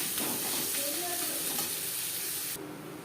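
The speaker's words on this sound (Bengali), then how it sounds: "পেঁয়াজ লালচে করে ভেজে নেওয়ার পর" Chopped onions and garlic fry in hot oil for a prawn malai curry, a loud, dense, continuous sizzle up close that drops off abruptly near the end, with faint stirring beneath.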